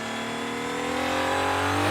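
An Aston Martin Valkyrie's engine heard from inside the cabin, revving steadily upward in a loud, dense high-pitched wail that builds over its short span, with no voices.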